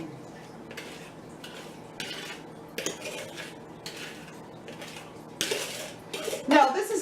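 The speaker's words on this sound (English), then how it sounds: "Scrape the bottom, get all that blackberry syrup out of there." A utensil scraping blackberry syrup from the bottom of a pan, producing a series of quiet, irregular metallic scrapes and clinks, close by, with a louder clatter near the end.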